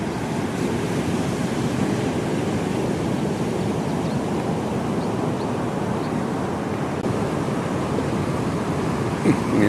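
Ocean waves off St Lucia roll and break in a continuous, loud wash of surf noise, with wind rushing across the microphone throughout and no talking.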